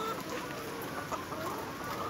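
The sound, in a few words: Nourish layer hens clucking on a poultry farm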